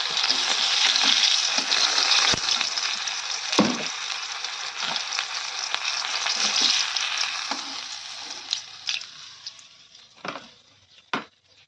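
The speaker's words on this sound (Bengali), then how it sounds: "মাছগুলো কিন্তু খুব সুন্দর করে লাল লাল করে ভেজে নিয়েছি" Fish frying in hot oil until reddish, a dense continuous sizzle up close that gradually thins out, punctuated by sharp clacks of a spatula against the pan, growing sparser toward the end.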